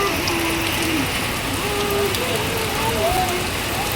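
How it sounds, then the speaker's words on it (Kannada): Heavy rain pouring steadily outdoors, a dense, loud hiss of drops on surfaces that fills the whole stretch, while someone talks over it. "ಇವತ್ತು ಫುಲ್ ಬೆಳಗ್ಗೆ ಅಂತಾನೆ ಮಳೆ ಫುಲ್ ಜೋರಾಗಿದೆ."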